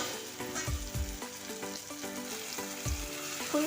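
Paneer frying in a pan, with a continuous close sizzle and crackle broken by intermittent clinks of a utensil against the pan.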